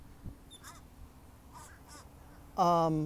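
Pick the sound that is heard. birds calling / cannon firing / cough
birds calling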